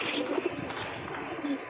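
Giribaz pigeons coo softly in a few low, rounded calls on a rooftop, faint against a background hum.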